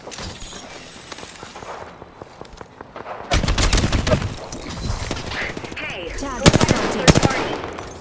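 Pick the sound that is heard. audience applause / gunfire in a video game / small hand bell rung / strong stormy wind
gunfire in a video game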